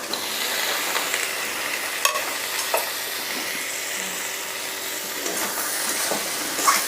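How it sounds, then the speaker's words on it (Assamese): Cashews fry with turmeric in a pan for butter paneer masala, a constant close sizzle broken by occasional scrapes and clicks of stirring. "মই এইখিনি ভাজিলোঁ, কাজুখিনিও অকণমান কোমলি গৈছে"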